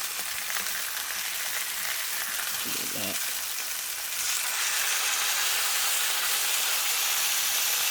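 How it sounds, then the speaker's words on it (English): Ribeye steak frying in a hot pan as it is flipped, a steady broadband sizzle throughout with a brief clatter partway through and the hiss swelling louder afterward, no talking. "So this ribeye is thinner than this one, so we're just gonna go ahead and flip it."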